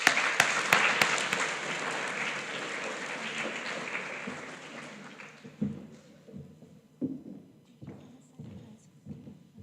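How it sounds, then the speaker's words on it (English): Applause from a crowd at a primary school prize-giving ceremony, loud at first and gradually fading, with a few scattered thumps and claps trailing off at the end. "Let's give them a huge round of applause."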